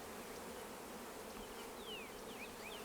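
Honey bees swarm around an open hive, with workers already returning loaded with pollen. Their buzzing forms a close, steady drone throughout, and a few faint bird chirps sound in the background.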